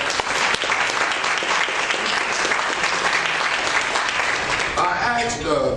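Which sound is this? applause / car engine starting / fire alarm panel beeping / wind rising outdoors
applause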